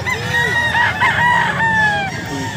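A Boston Roundhead rooster crows at a pet market: one loud, close crow with stretched harmonic tones, carried over a steady background murmur of the market.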